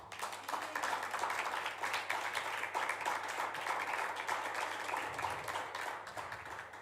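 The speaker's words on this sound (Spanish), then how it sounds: "Si va a aplaudir, hágalo fuerte." A church audience applauds during a sermon with a steady wash of clapping that holds for several seconds at a fairly even level and fades slightly near the end.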